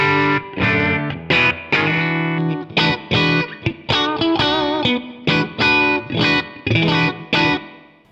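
An overdriven electric guitar played through a Super Reverb amp model on a ToneX One pedal plays a choppy run of loud notes and chords, each cut short with brief gaps, heavy with effects.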